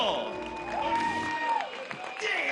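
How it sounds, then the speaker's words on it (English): A crowd at a boxing weigh-in applauds and cheers for Jake Paul, a continuous, moderately distant wash of clapping and shouts under tonal music or voices. "Ladies and gentlemen, a round of applause for the problem child"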